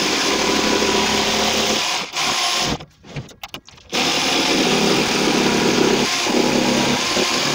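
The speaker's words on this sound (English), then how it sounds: "Cut that off with jigsaw." A jigsaw cuts off wood on a staircase bullnose, its loud buzzing motor running steadily, briefly stopping and stuttering in the middle before resuming.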